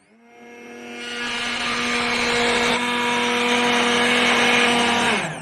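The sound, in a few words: blender switched on and running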